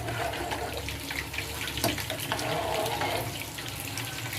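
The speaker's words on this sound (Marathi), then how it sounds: "हा बघा आता मी पाणी टाकून घेतलेलं आहे" Water splashes and gurgles steadily into a cooking pot of paneer pulao, a continuous close pour with faint clinks.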